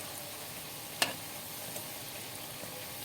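Lentil fritters (dal bora) frying in refined oil in a pan, already flipped so the second side browns; a soft steady sizzle runs throughout, broken by one brief sharp crackle and a few faint pops.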